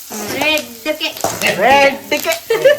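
Chicken gravy masala sizzles in a pan with coriander and curry leaves, a steady frying hiss running beneath a person talking throughout.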